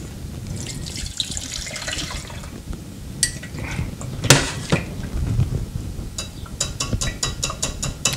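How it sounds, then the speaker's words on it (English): A meadowsweet flower infusion is poured through a sieve back into a pan in a kitchen, giving a continuous trickling splash with several sharp metallic clinks and taps from the utensils. "I'm just going to sieve it back in the pan, minus meadowsweet flowers"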